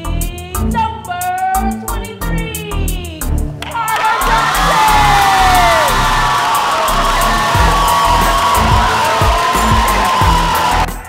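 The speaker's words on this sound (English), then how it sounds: "All the people are here cheering for me." A large crowd cheers, whooping and yelling loudly in a sustained roar, after a few seconds of louder rhythmic sounds at the start.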